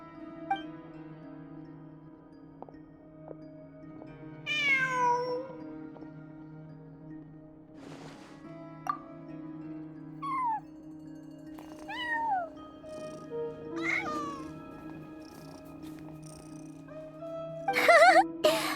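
Cat in the video game Genshin Impact meowing several times, short rising and falling mews spaced a few seconds apart over a quiet ambient hum, fairly close and alone, without talk.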